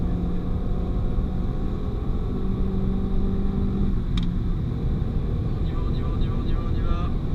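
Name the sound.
Renault Mégane 4 RS engine at full throttle on Magny-Cours track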